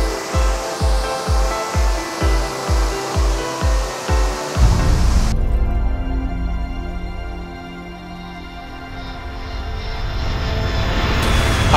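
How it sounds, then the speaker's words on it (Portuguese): Artificial waterfall at the Nagashino dam in Shinshiro, Japan, roaring as a steady broadband rush of falling water, loud and continuous with no talk, after some rhythmic thumping at the start. "A cachoeira Niágara da barragem Nagashino é uma cachoeira artificial localizada na cidade de Xinchiro."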